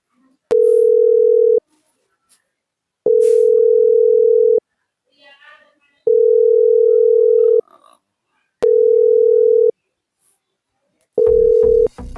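A telephone line sounds five loud, steady tone bursts of one to one and a half seconds each, separated by silent gaps, as a prank call is placed; faint voices are heard briefly between the later tones.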